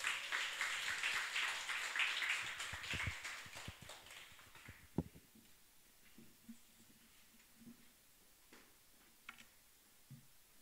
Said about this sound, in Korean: 나오실 때 우리 박수로 환영하고